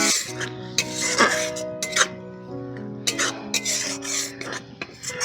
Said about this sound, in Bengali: এই দুধটা দেওয়ার কিছু সময় আমি মশলাটাকে নাড়াচাড়া করবো